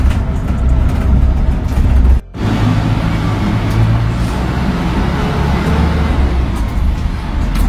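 Steady low rumble of a moving car heard from inside the cabin, a continuous road and engine drone with a brief dropout partway through and faint murmurs of conversation.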